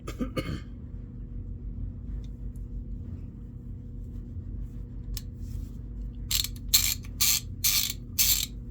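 A series of sharp, noisy clicks from a cheap ratchet mechanism and short bursts near the end, over a steady low hum, fairly close with no talking.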